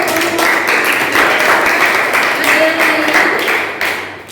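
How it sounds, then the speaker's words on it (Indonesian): Classroom applause from students after a presentation, dense steady clapping filling the whole stretch with a few voices mixed in, tapering slightly near the end. "Tepuk tangan lah."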